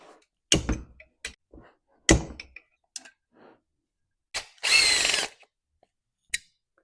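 Short bursts of a power tool driving fasteners while a Stihl chainsaw muffler is taken off, with clicks, knocks and one longer whirring run, close up in a quiet room.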